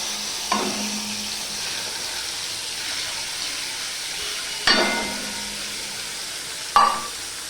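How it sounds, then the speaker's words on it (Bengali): Ground flat bean paste hitting hot tempering oil, a steady sizzle and hiss running throughout with three sharper bursts as more paste lands, close and fairly loud, no voices. "এবার বাটা সিমের পেস্টটা আমি দিয়ে দিলাম"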